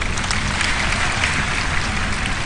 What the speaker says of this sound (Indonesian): Tepuk tangan untuk Sragen.